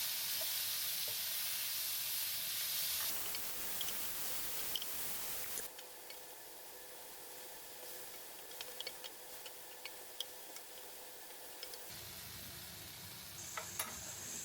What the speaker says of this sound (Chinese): 放入切好的西红柿， 炒一炒，